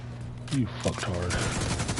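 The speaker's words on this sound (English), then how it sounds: "they shoot me from behind" Enemy gunfire in the shooter The Division 2, a short burst of shots under continuous talking.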